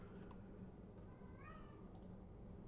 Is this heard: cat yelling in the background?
yes